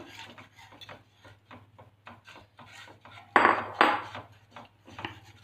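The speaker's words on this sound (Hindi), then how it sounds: "ਬੇਸਨ ਦੇ ਘੋਲ ਨੂੰ ਥੋੜਾ ਥੋੜਾ ਪਾਉਂਦੇ ਜਾਓ ਔਰ ਨਾਲ ਦੀ ਨਾਲ ਪਕਾਉਂਦੇ ਜਾਓ" A spoon scrapes and stirs gram flour batter in a cooking pan for vegetable tikki, with a quiet series of rubbing strokes and a few louder scrapes near the end over a low steady hum.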